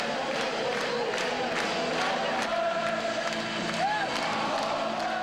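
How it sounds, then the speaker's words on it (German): Ice hockey fans roar in a packed arena as Adler Mannheim reach the DEL final, a sustained, dense crowd cheer with shouts and whistles across the whole stretch, fairly far and diffuse. "Der Jubel gigantisch"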